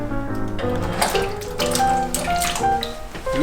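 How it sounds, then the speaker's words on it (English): Potatoes poured into a pot of water while making shepherd's pie, a close splashing, running-water sound with clattering pieces lasting a few seconds, and no talk. "So I'm gonna pour these into the water."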